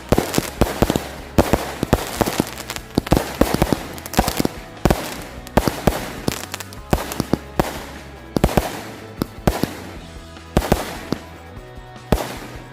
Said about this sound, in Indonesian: Itu dia hasilnya guys dari mercon Roman Candle Gladiator